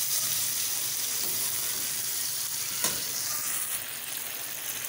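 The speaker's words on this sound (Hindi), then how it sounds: "और अब इसकी हम भुनाई कर रहे हैं।" Chicken and bitter gourd masala fry in oil with a dense, continuous sizzle, close and steady, with a single stirring scrape partway through.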